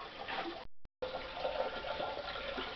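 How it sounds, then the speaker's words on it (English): Grape juice for homemade wine poured and bubbling to aerate it, a continuous close splashing, gurgling flow with a brief dropout near the start. "All these bubbles are aerating the wine"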